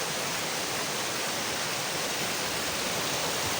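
A mountain stream rushes in a continuous, dense, even hiss of flowing water, loud and close, with no other sounds breaking through.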